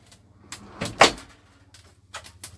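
A 2019 Bailey Unicorn Cabrera caravan door opening nearby, with a few short clicks and thumps and one sharper latch clack in the middle, and faint handling knocks after.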